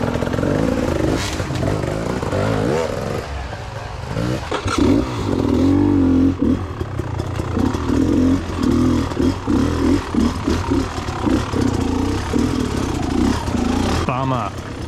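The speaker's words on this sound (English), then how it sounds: "I just don't have the skills to launch the bike up this bit" An enduro motorcycle labours up slippery off-camber logs in wet conditions, its engine revving and bogging in bursts with clattering and scraping as the wheel spins, while a rider speaks over the noise.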